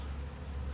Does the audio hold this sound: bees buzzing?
yes